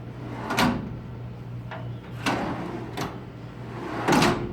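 Drawers of a 72-inch Styrke Industries tool chest with quiet-close rails being pushed shut, four or five separate soft thuds spaced about a second apart, close and moderately loud over a low hum.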